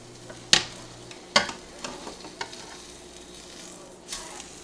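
A fried egg in a pan being flipped with a spatula: a low, constant sizzle with two sharp metallic scrapes of the spatula, then softer taps and a closing scrape, close up, with no talk.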